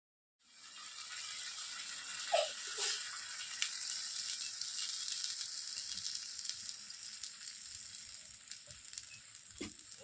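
Jackfruit curry with sour curd sizzles steadily in a pan as it is stirred, a continuous frying hiss with a few soft scraping knocks and clicks, close and alone without talk.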